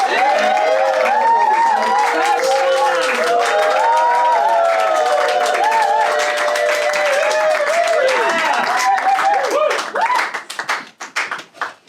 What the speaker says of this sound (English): Give him a warm round of applause to welcome to the stage.